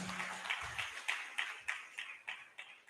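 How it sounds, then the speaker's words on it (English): A crowd claps at a Central Bank of Nigeria fair in Bauchi. The soft applause falls into an even rhythm of distinct claps, about three a second, and stays fairly distant and faint throughout. "Please give him a bigger round of applause."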